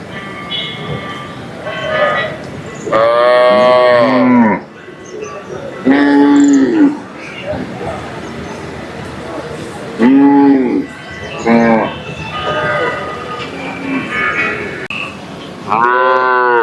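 Cattle moo repeatedly at a native bull market in Palayakottai, loud, drawn-out calls from several animals rising out of a busy outdoor crowd murmur, with pauses between bursts.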